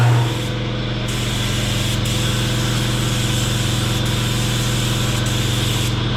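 A spray gun painting a car gives out a loud, continuous hiss of atomized paint with compressed air, steady throughout, with brief dips where the gun pauses, and no talking.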